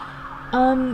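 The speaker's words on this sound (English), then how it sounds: "deep apologies for the sirens" A siren wails, its tone rising and then holding high and strong partway through, fairly close and prominent.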